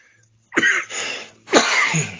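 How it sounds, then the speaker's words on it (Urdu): Two harsh, close coughs about a second apart, alone with no talking. "اب آج یہ کھانسی پھر شروع ہو گئی ہے"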